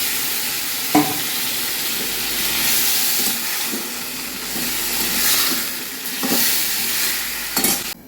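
Fish heads go into a pan of cooking broth for muri ghonto, a continuous hissing sizzle broken by a few sharp clatters and stirring scrapes, close and fairly loud.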